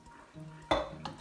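A spoon scrapes and knocks against a pot while chicken handi curry is stirred, with a sharp clatter near the end and a second lighter knock after it.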